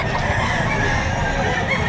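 Gamefowl rooster of Pumpkin Sweater and Yellow-legged Hatch bloodline at a Saturday poultry market in Lipa, Batangas, sounding close and loud against a dense, noisy crowd background with other chickens, its call rough and sustained.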